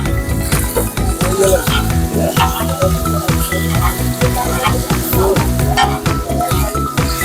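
Kebab meat frying in fresh oil at a street food stall, a dense continuous sizzle with stirring and scraping noises, heard under someone talking throughout.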